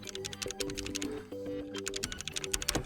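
Rapid typing on a Logitech Pro X 60 Lightspeed keyboard with GX optical switches and keycaps removed, a quick stream of sharp, close clicks and clacks, fairly quiet, with no voices.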